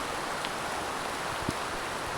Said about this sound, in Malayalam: ഒരു രക്ഷയില്ലാത്ത മഴയാണ്